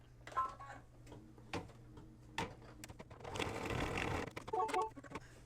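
A sewing machine stitching an outline in blue thread on blue fabric for a small mug rug runs in short, close bursts of rapid mechanical clatter. Brief pauses and soft clicks fall between the runs.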